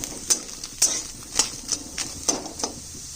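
Garlic and onions frying in a pan, with a metal spoon stirring and scraping in a steady rhythm of about eight sharp clinks over a soft sizzle.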